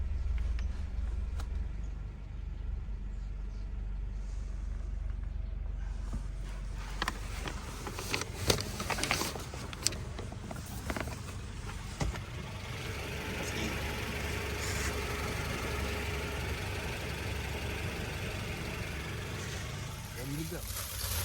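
A Honda Civic engine idles quietly with a new exhaust fitted, a steady low rumble running throughout with occasional clicks and creaks nearby and faint background activity.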